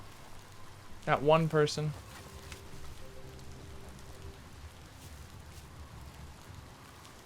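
Steady rain falls in the video game Biomutant, a soft, even hiss that runs the whole time. A brief spoken phrase comes early on, along with a faint musical tone.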